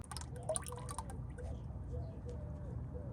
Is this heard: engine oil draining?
yes